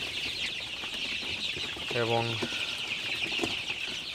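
Sonali super hybrid chicks peeping in a steady high-pitched chorus at dusk, with someone speaking briefly over them partway through.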